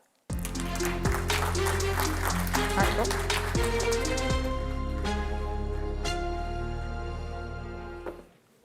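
Audience applause at an EU enlargement summit, dense sustained clapping from a large crowd starting abruptly and fading out after about eight seconds.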